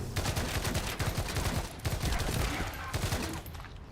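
Dense sniper rifle fire in the video game Fallout 4 during a modded playthrough: many loud shots crowd together with no pause, and a voice comes through faintly underneath.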